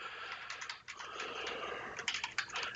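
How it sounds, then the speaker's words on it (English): Soft, rapid keyboard typing with irregular clicks, fairly close and steady throughout, with a few brief pauses. "We'll just finish typing my message here."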